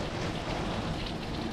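Heavy rain driven sideways by hurricane winds during Hurricane Ian lashes a street, a dense, steady hiss of rain and wind with no talk.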